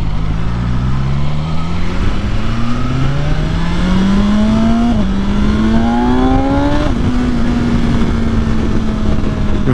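A BMW S1000XR motorcycle accelerates hard on a road ride, its loud engine note climbing steeply in pitch through successive gear shifts, each upshift briefly dropping the tone before it rises again, all under strong wind noise.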